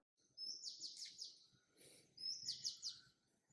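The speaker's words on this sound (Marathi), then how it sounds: "पक्ष्यांचा मस्त किलबिलाट चालू आहे बॅकग्राऊंडला दुसऱ्या कुठल्या म्युझिकची गरज नाही" Two bursts of bright, rapid morning bird chirping, clear and close, separated by a short pause over faint background noise.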